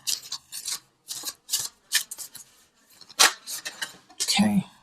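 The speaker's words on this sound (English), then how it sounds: "let's pull from the visionary cards." Oracle cards drawn from a visionary deck, a series of short papery rubbing and sliding bursts close to the mic, with a brief low soft note near the end.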